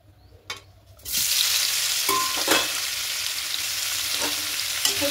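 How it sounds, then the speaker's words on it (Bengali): Paneer hits hot oil with a sudden loud sizzle after a quiet second, then crackles steadily up close with a few sharp spatters and scrapes. "পনিরটা হালকা করে ভেজে নেব।"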